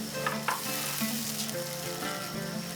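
Spiced paste sizzles and fries loudly in a pan as water is poured in for a cabbage gravy, a steady close crackle with bubbling bursts throughout and no talking.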